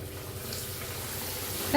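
Bread pakoras, dipped bread slices deep-frying in hot oil, give off a steady close sizzling hiss that holds evenly throughout, with no talk over it.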